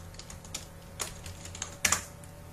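Quick, light keystrokes on a computer keyboard, a short irregular burst of clicks ending in a couple of firmer taps, close and clear in a quiet room.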